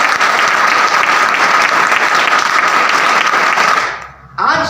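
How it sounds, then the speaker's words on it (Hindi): A seminar audience claps loudly and continuously for an Indian direct-selling (MLM) talk celebrating a two-crore income. The dense, steady applause runs for about four seconds, then cuts off abruptly into near silence before a brief burst returns. "ये 2 करोड़ की ताली है, एक धमाकेदार और शानदार ताली होनी चाहिए भाई।"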